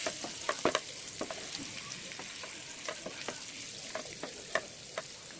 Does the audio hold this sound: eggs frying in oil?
yes